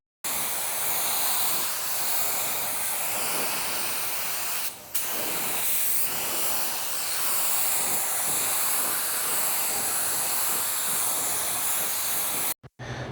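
A Sagola 4600 spray gun with a 1.2 tip lays clear coat onto a car bumper at home, giving a steady close hiss of atomized spray that breaks once briefly midway and cuts off at the end.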